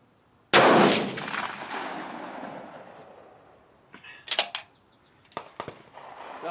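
A single loud rifle gunshot during load development testing over a chronograph, one sharp close crack followed by a long fading echo, then a few small clicks and handling noises.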